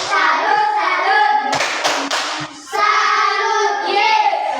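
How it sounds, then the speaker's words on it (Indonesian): A classroom group gives a short rhythmic salute clap, a brief burst of sharp hand claps set between stretches of children chanting together before and after. "mari kita berikan tepuk salut untuk kelompok 1"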